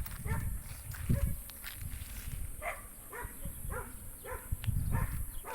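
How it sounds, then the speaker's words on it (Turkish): Several dogs bark at a distance in scattered bursts, some overlapping, over a low rumbling background outdoors by the Meriç river in Edirne. "o yüzden sık sık köpek sesleri duyabilirsiniz"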